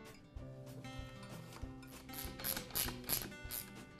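Bolts are tightened to fasten the pump assembly onto the tank of a Campbell Hausfeld air compressor, a close run of quick ratcheting clicks and metallic turning with no voices.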